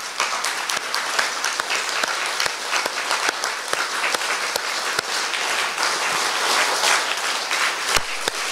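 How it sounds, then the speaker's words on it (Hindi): An audience at a spiritual class claps in sustained, steady applause, many hands at once, with a few sharper claps standing out, no talk over it. "थोड़ी तालियां बजाएंगे जरा।"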